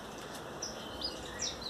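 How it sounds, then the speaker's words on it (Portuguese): Several faint, high bird chirps come from outdoors over a steady hiss of background noise in a place with many birds around, each chirp short and spaced apart, with no one speaking. "Muito passarinho aqui, viu?"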